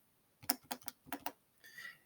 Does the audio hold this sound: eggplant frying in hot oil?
no